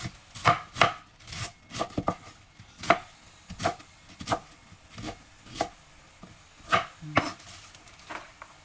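A knife chops cabbage on a cutting board in sharp, evenly spaced thumps, about a dozen crisp strikes close up with quiet pauses between.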